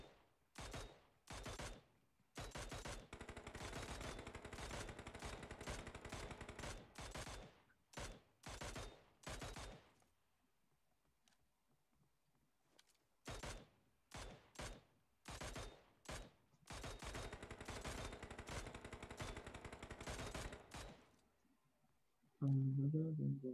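Mini14 rifle in PUBG firing in rapid bursts of sharp, loud cracks, several long strings of shots separated by short pauses and a stretch of near silence.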